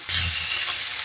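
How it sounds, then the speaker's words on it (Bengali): Bitter gourd pieces fry in oil in a pan, giving a brief, loud, steady sizzling hiss close by, with a low rumble at the very start and no voices. "উচ্ছেগুলো ভেজে নেব"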